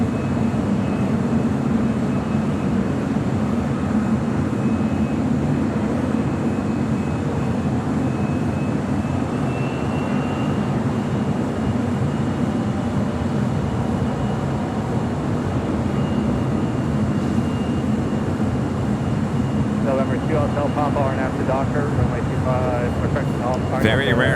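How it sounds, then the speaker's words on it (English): An Air France airliner departs from LAX, its engines making a steady broad roar throughout, with rain or wind noise mixed in and a faint voice in the background. "Very rare Southside departure for Air France, heading back to Paris."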